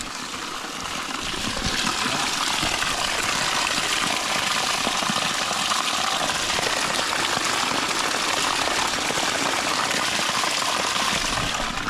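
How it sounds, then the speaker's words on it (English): Steady, dense rush of falling water, loud and continuous, like a waterfall pouring without pause. "Let me show you something like a waterfall."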